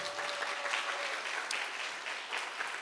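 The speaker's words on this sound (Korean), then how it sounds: "진정성 있는 박수입니까?" Steady applause from a crowd fills the whole stretch, dense and even, with a few louder claps popping out.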